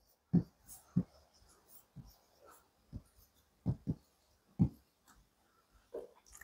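A pen or pencil writes numbers by hand on paper, with sharp taps and short scratchy strokes at an irregular pace. The sound is close and quiet, with soft breathing in the background.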